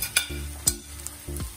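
Ginger, garlic and green chilies sautéing in a pan for a prawn pickle, giving a soft close sizzle broken by a few sharp scrapes and taps of a spoon, with no voices.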